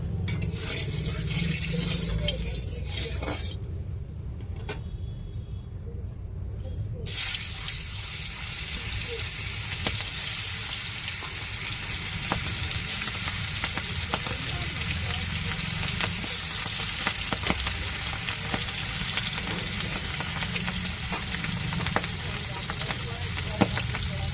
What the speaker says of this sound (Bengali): চলো মাছটা আমি ভেজে নেবো এখন